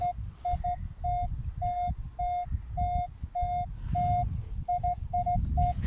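A metal detector gives a run of short, evenly spaced high beeps as it passes over a buried coin in mud outdoors, with rustling and scraping underneath.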